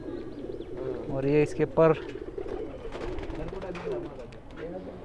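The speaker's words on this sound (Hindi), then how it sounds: "ये इलाहाबादी कबूतर" An Allahabadi pigeon coos in a few soft, rolling bursts close by, while someone talks over and between the calls.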